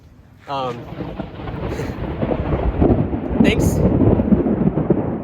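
Thunder rolls through a thunderstorm in a forest, a low sustained rumble building and lingering over several seconds, with brief speech at the start and some wind noise on the microphone.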